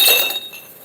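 A glass tumbler clinks once as it is picked up, a short bright ring that fades quickly in a quiet room.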